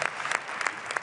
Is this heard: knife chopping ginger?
no